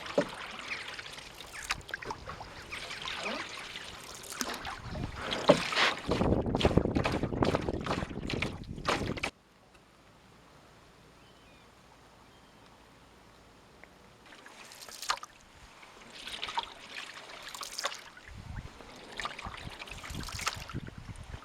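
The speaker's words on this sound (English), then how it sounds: "I'm going to turn around here and paddle back." Paddle strokes and water movement from an open canoe on the River Dart estuary, with steady wind across the microphone; busy splashing in the first half, a quiet stretch in the middle, then more intermittent dips and swirls.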